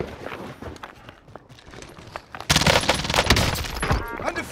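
Call of Duty: Modern Warfare gunfire, quiet sporadic shots and footsteps that break into a sudden loud, sustained burst of automatic fire halfway through.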